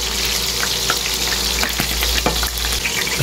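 Chopped onions fry in a hot pan in a steady, loud sizzle, with light stirring clicks and scrapes scattered throughout and no talking.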